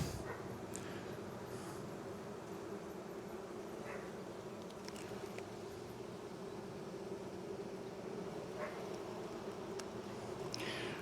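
Honey bees hum steadily in a bee yard during a hive inspection, a dense, continuous swarm drone with occasional individual bees buzzing closer and louder, and no talking.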